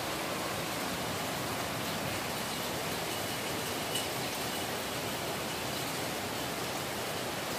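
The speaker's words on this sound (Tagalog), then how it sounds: "Naranasan natin yung malakas na ulan." Heavy rain falls on a rainy morning, a steady, dense rushing hiss that stays unbroken and even throughout, with no voices.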